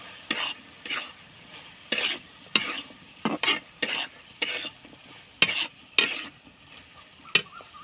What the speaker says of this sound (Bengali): দিয়ে দেবো ডুমুর ডুমুরটা একটু নেড়ে নেবো